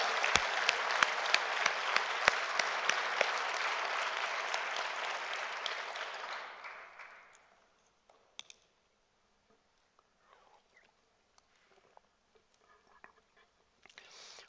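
A church congregation applauds together at a worship service, a loud dense wave of clapping that holds steady for about six seconds, then fades out, leaving near silence broken by a few faint scattered claps.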